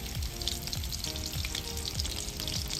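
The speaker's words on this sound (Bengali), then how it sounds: "ভালো করে মজমজে করে ভাজবে মা" Food sizzles steadily in a hot kadai (wok), with a dense, close crackle of frying oil and soft rhythmic knocks from stirring underneath; no one speaks.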